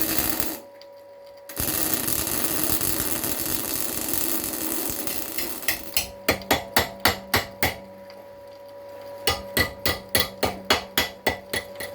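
A hammer taps on freshly welded metal of a Ford Escort MK1 water rail, a quiet buzzing hum first, then two rapid runs of sharp, evenly spaced metallic strikes close by.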